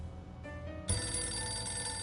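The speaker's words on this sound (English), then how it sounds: "Somebody's calling!" A telephone rings loudly and steadily in the video game 60 Seconds Reatomized, a bright electronic bell that starts abruptly and continues without pause, alone with no talk.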